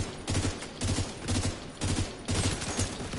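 In The Division 2, a deployed turret fires in short automatic bursts, about six evenly spaced volleys of rapid gunfire with brief gaps between them, fairly close and loud.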